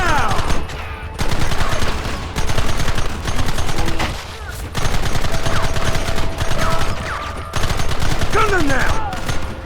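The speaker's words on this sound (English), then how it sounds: "Fire at will!" Gunfire in a Red Dead Redemption battle on Xbox 360 crackles in dense, repeated volleys, loud bursts of rapid shots separated by brief pauses, with occasional shouted voices underneath.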